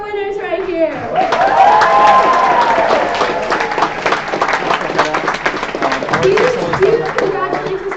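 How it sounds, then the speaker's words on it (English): A startup demo day audience breaks into applause for the winners, a loud crowd of clapping and a few cheers that follows a brief voice and runs for several seconds, with talk mixed in. "Okay, another round of applause for our winners right here."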